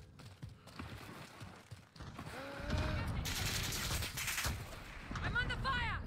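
Bursts of automatic gunfire and scattered shots ring out in a Warzone match, rapid crackling volleys and single cracks layered with game effects, fairly faint overall and mixed with voice chatter.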